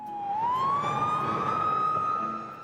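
An ambulance siren wails steadily, its pitch sliding up and then holding in a long sustained tone, loud and close with a constant rumble of traffic underneath.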